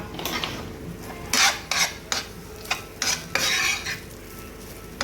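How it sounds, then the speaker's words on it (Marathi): Leftover rice with prawns being tossed and stir-fried in a pan, with repeated scraping strokes of a spatula against the metal in short bursts, close and fairly clear, with no voices. "शिळा भात टाकला. मस्त असं परतून घ्यायचं आहे."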